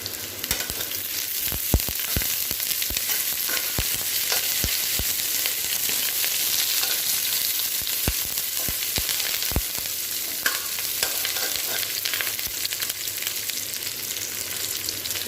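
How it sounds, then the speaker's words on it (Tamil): Ingredients sautéed in hot oil in a pan for Tamil egg kulambu, a steady close sizzle with scattered sharp crackles and pops throughout, no voices. "இதையும் நல்லா வதக்கிக்கோங்க"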